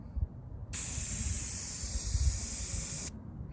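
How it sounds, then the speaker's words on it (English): A steady, continuous spray paint hiss lasting a couple of seconds, close and fairly loud, painting a yard sign, with a low rumble of room noise before and after. "give it a good, steady, straight spray"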